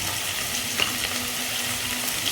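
Chili powder, cumin, homemade garam masala and coriander powder sizzle in a hot pan for veg biryani, a steady close frying hiss with faint stirring scrapes and no voices.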